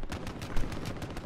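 Automatic gunfire in Warzone rattles off in a steady, fast string of shots throughout, loud and close, with no speech.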